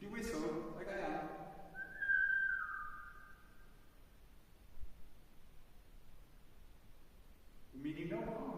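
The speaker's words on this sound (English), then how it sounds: "Could you whistle like I am?" A person whistles a single sustained, wavering note for a couple of seconds in a quiet, echoey space inside tunnels, with speech just before and after.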